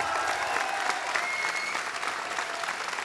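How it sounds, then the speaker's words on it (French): A crowd at a gardeners' prize-giving ceremony claps steadily and loudly for the competition candidates, a continuous wash of applause with no voices on top. "on peut faire un tonnerre d'applaudissements à tous les candidats"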